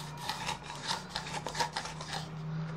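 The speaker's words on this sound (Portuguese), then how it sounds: "não sei se vocês conseguem ouvir o barulho dele amassando" Garlic is crushed and mashed for a rice dish, giving a soft, repeated rubbing and grinding texture, fairly quiet and close, with no voices over it.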